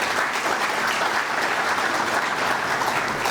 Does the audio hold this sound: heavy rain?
no